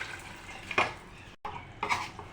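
Half-cooked beef poured into biryani masala in a pot: two clattering scrapes and stirs against the metal pot, separated by a brief silence, with a soft background hiss.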